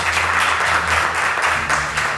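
Audience applause at a televised cooking competition, a steady wash of many hands clapping at moderate distance, sustained throughout with no pause.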